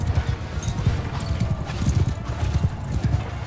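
Horses gallop in the Mount & Blade II Bannerlord video game, a close, rapid clatter of hoofbeats pounding continuously, with a brief neigh in the mix.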